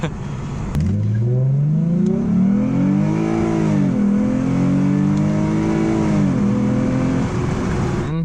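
A 2007 Lexus IS 350 driving a back road, heard from inside as the engine revs rise and fall through gear changes, a steady loud drone with clear pitch sweeps.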